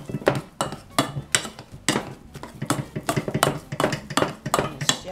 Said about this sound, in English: I keep mashing.